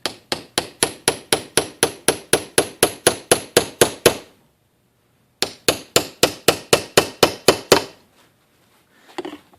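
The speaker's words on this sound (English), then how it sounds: "let's take your hammer, start rapping away at it" A hammer raps a punch held in a vise in a fast, steady run of sharp, ringing metal taps while removing Berdan primers. After a short pause a second burst follows, then a few faint clinks.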